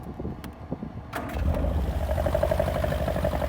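A Lotus Series 4 with a Lotus twin cam engine with a high lift cam cranks briefly with a few clicks, then fires up and settles into a steady, fairly close idle with a rhythmic low throb and a mid-pitched hum.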